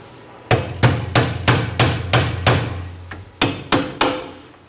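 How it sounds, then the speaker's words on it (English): A hammer strikes a seized rear brake hose fitting on a 2013-2019 Nissan Sentra about eleven times in a steady rhythm, each blow loud and ringing briefly, with a short pause before the last few hits. "I'm going to hit it with a hammer"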